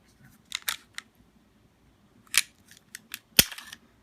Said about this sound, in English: I forgot how to take the Glock apart